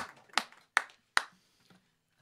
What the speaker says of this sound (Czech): Děkuji za frenetický až zběsilý potlesk.